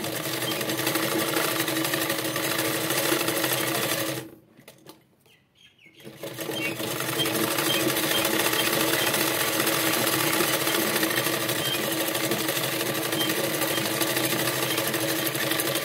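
A sewing machine stitches around a blouse neck with a fast, steady whirring rattle, falls silent briefly, then resumes and runs continuously to the end.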